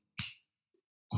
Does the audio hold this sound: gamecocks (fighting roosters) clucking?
no